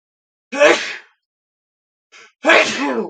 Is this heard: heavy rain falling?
no